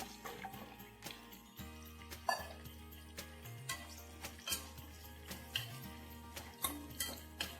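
Sliced mushrooms being sautéed and stirred in a pan with cashews for a coriander-mint mushroom biryani, light scrapes and clinks of a spoon in a steady rhythm over a low background drone.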